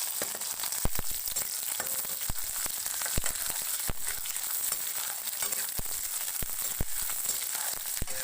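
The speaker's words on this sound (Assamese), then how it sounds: "মই এতিয়া পিঁয়াজ নহৰুখিনি দি দিছোঁ।" Onion and garlic fry with cumin seeds in hot oil in a pan, a steady close crackling sizzle throughout with scattered sharp pops and spits.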